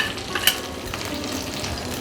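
Onion, garlic and ginger paste sizzling in mustard oil as it is stirred in a pan, a steady crackling fry with a few soft scraping clicks, close and with no talking.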